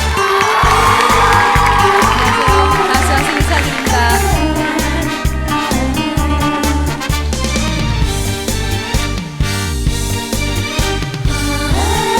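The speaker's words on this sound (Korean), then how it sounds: "여러분 큰 박수 부탁드립니다." Audience at a televised Korean singing stage cheers and applauds loudly and continuously as a female singer's performance is introduced, with music-like tones mixed into the sustained crowd noise.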